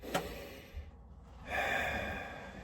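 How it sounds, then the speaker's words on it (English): A slow, deep breath drawn in during a calming meditation, heard alone: a faint sharp intake at the start, a pause, then a long steady airy inhale that swells and holds near the end. "Take a deep breath in"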